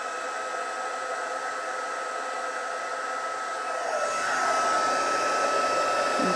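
A heat tool warming embossing powder on a handmade card gives a steady, close whooshing blower hiss that swells slightly louder partway through, with no talk over it.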